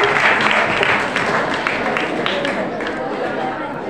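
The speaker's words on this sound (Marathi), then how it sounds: "जोरदार टाळ्या वाजवा आपल्या मित्रांसाठी." Applause from the audience at a school annual prize distribution ceremony, a steady wash of many hands clapping, loud and close, with crowd chatter mixed in and tapering slightly toward the end.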